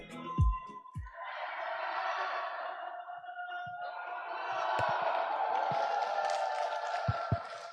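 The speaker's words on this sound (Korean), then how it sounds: "용봉동에서 오신 분들 함성 한번 질러보세요." A hall audience from Yongbong-dong in Gwangju's Buk-gu cheers and shouts at a resident autonomy presentation event, a sustained swell of crowd noise and noisemakers with a few sharp claps and knocks, rising louder toward the end.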